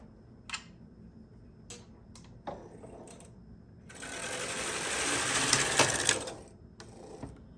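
A knitting machine carriage casting on yarn for socks, preceded by a few sharp clicks of needles being set, then a sustained loud mechanical rattle sliding across the bed for about two seconds.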